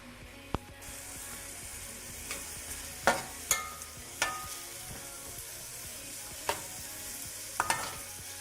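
Potatoes and onions cook in a pan over a rising flame, a soft steady sizzle broken by several sharp scraping clicks as a spoon stirs them, close and with no talking.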